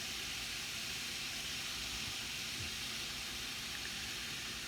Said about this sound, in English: we put this on low that it keeps boiling